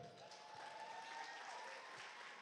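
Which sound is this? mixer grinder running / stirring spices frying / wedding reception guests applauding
wedding reception guests applauding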